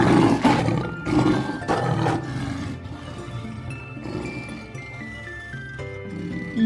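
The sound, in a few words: lion roaring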